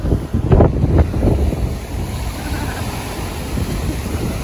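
Wind buffets the microphone and surf washes steadily along a long, nearly deserted Black Sea beach at Durankulak, Bulgaria, a loud broadband roar with a few gusty bursts near the start and no voices.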